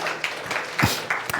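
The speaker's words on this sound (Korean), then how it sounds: "박수 한번 쳐요" A church congregation claps during a sermon, a short burst of scattered applause that rises and fades within about a second and a half.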